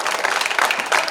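Sustained applause from an audience at a Jain monk's welcome sermon gathering in Kharadi, Pune, dense steady clapping filling the whole moment with a few louder swells.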